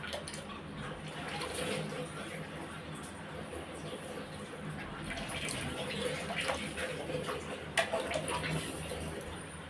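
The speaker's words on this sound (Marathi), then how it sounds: "हा पाणी भरतोय" Water runs steadily from a tap in a continuous rushing stream, with faint background noise throughout.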